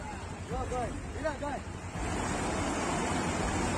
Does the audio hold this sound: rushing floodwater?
yes